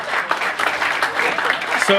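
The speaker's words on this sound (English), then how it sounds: "ladies and gentlemen, round of applause for Nick" A crowd gives a round of applause for Nick at a sales talk, a loud, brisk burst of many hands clapping with voices mixed in, ending as a tone cuts in.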